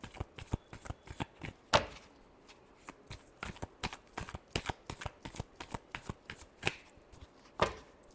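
Tarot cards being shuffled by hand, a rapid run of crisp riffling flicks and slaps in an irregular rhythm, close and clear, with a couple of louder snaps.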